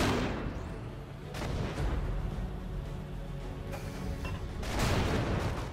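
Tank cannon fire in a WWII tank game, Infinite Tanks WWII on the Nintendo Switch: several heavy booming blasts with rumbling decay, some near and some farther off, spread across a few seconds with no talk.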